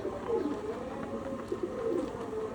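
Pigeons coo softly nearby, a few low, rolling calls repeating at an unhurried pace over a quiet background.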